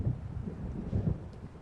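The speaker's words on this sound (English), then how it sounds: "It seems there's a storm coming." An approaching thunderstorm in the video game Alan Wake gives a low, rolling rumble with gusty wind noise, steady and fairly loud, no one speaking.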